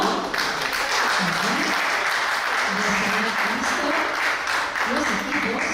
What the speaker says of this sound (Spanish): vamos a recibirlos, por favor, con fuertes aplausos a Camilo Calderón.